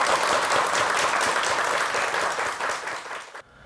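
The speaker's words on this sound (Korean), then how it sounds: "한의사께 박수 한번 부탁드리겠습니다" Studio audience at a live Korean morning TV program claps for a guest doctor of Korean medicine, a full, dense round of applause that gradually thins and then cuts off sharply near the end.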